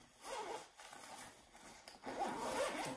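A zipper pulled along the front wall pocket of a Lug Ranger bag, two quick close rasping runs with a short pause between them, heard alone.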